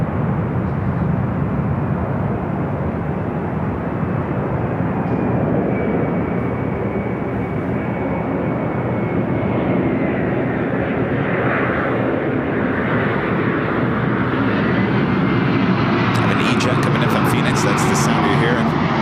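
A jet airliner bound for JFK rolls down runway 24 Left at Los Angeles International Airport, a loud sustained engine roar filling the whole stretch, steady and broadband with a faint rising whine.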